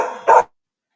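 A dog gives a single short, close bark that ends abruptly, with a faint trailing sound before it and silence after.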